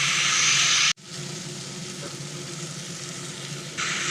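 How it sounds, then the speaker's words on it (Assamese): Boiled jackfruit hits a pan of frying spices with turmeric and a little sugar, a loud hiss breaking off abruptly and then settling into a steady, softer sizzle that swells again near the end. "এইখিনি ভালদৰে ভাজি লোৱাৰ পাছত সিজাই লোৱা কঁঠালখিনি ইয়াতে দি দিলোঁ।"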